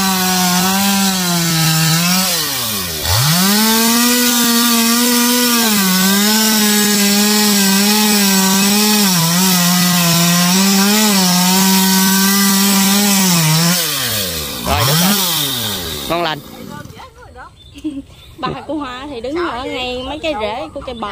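Chainsaw cutting into a coconut tree trunk, a loud, steady motor whine with two brief dips as the engine bogs, then falling away into quieter background noise near the end.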